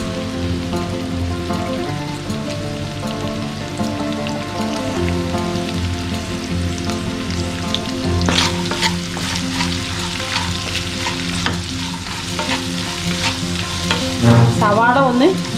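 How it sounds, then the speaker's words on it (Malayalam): Onions frying in a pan for bonda filling, a loud, steady sizzle with crackling spatters and stirring scrapes, busier after the midpoint, plus a brief metallic ring near the end. "സവാള ഒന്ന് വെന്ത് വന്നാൽ മാത്രം മതി, ഒത്തിരി മൂത്ത് പോകരുത്."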